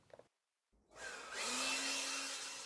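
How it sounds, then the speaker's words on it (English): A mini leaf blower, used to blow dust off a door, starts up after a brief silence and holds a steady, loud rushing whirr with a faint motor whine. "I'm using a hairdryer on the door, it's actually a mini leaf blower"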